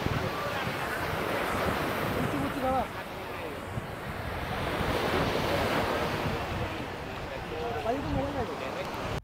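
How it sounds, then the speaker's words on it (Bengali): Ocean waves wash steadily onto a Florida beach with continuous surf and wind rumbling against the microphone. A voice talks over the surf. "এই সমুদ্রের পাড়টা কত সুন্দর, আর ঢেউ কি কত উপরে চলে আসে।"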